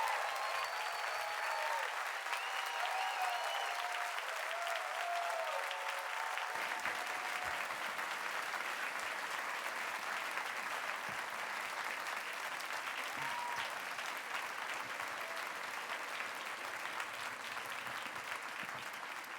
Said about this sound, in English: let's give these social innovators a hearty round of applause